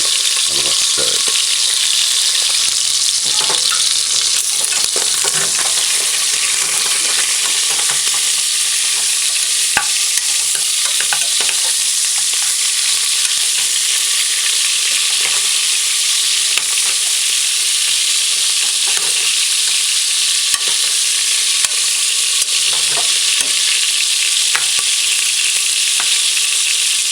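Beef for stew sizzles and fries in a pot, a dense continuous crackle close by with occasional scraping knocks of stirring throughout.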